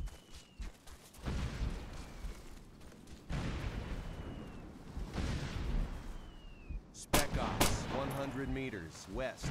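Artillery rounds from a fire mission in Operation Flashpoint: Dragon Rising, heard as a series of heavy booming blasts and rumbling impacts spaced a few seconds apart, with faint whistles and a sharper burst of gunfire toward the end.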